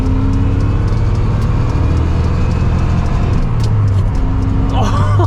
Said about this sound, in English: I'll give you an acceleration here. We're in second gear.